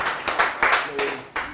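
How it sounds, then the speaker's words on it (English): An audience bursts into short rounds of applause, several loud clapping surges close together, with some voices mixed in. "Give a round of applause to her."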